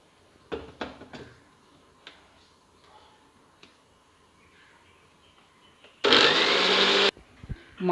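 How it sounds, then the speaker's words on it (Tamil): A mixer grinder jar blending cut mango pieces into pulp for lassi starts up with a loud, steady whir for about a second after some scattered light clicks and taps. "ஒரு மிக்ஸி ஜாரில் கட் பண்ணி வச்சுருக்க மாம்பழ பீசஸை போட்டு நல்லா அதை அரைச்சி பல்ப் பண்ணிக்கலாம்"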